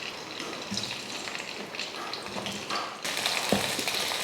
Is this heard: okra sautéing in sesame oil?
yes